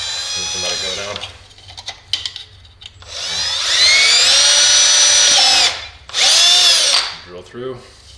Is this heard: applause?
no